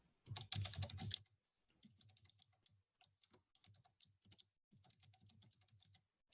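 Someone types a search on a computer keyboard, quiet clicking keystrokes in short bursts after a louder initial flurry, close and otherwise silent.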